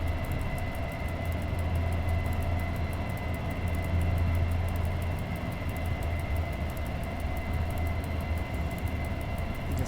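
Passenger train in the Simrail simulator running steadily at speed past an interlocking, a continuous low rumble and rolling drone with a steady hum, loud and unbroken throughout, no talk.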